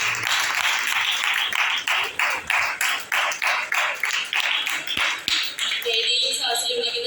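A gathering at a church inauguration breaks into rhythmic group clapping, loud and close, about twenty even beats before it fades.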